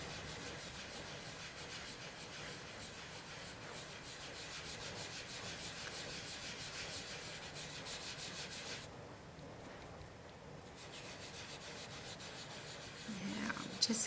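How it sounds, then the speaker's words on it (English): Sponge dabbed and rubbed across a Christmas card to lay ink into a soft sky, making a faint, steady scratchy brushing close by that thins briefly near the end, no talk. "when I'm sponging, I like to use my sponges."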